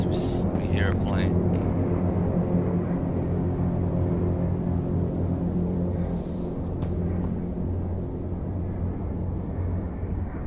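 A propeller airplane droning overhead in the H1Z1 survival game, a steady loud tonal engine rumble that holds throughout with little change, briefly joined by faint clicks and effects.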